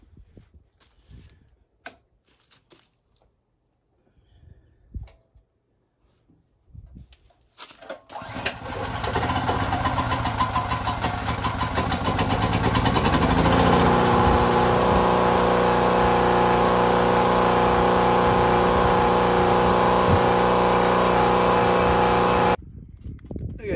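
Predator 4375 generator engine starts after a few tries and settles into a loud, steady running drone that holds for over ten seconds before cutting off near the end.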